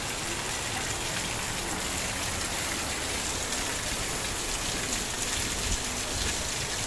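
Heavy rain pours down in a dense, constant hiss, drumming steadily on surfaces with no pauses or voices.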